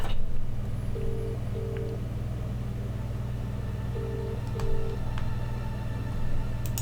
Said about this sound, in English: So I call that number, see where that actually leads.